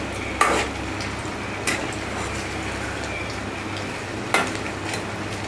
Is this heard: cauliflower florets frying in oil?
yes